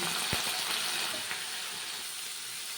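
A quiet, steady sizzle of tomatoes and green chillies frying in oil with salt, with a single soft knock near the start.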